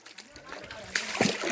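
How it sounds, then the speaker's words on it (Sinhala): Lake water slops and splashes close by during a boat tour, with short watery bursts over a steady rushing flow while people talk over it. "මේ කොහෙන්ද වතුර එන්නේ මේ"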